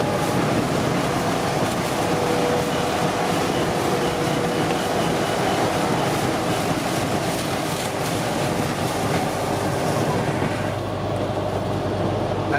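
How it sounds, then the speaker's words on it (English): Strong headwind and crosswind roar steadily around a van on a drive near Denver and the Rocky Mountains, a loud, dense, unbroken rush with no talk. "That's the wind, just relentless."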